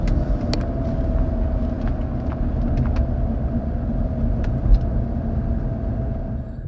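A Land Rover with a drivetrain fault drives along, giving a loud, steady mechanical drone with a constant whining tone running through it and occasional light knocks, and no voices.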